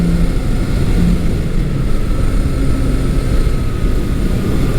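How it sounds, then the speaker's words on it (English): A Honda CB750 K motorcycle engine drones loudly and steadily while riding, holding a constant rumbling pitch for several seconds with no voices. "Bike picks up revs very nicely."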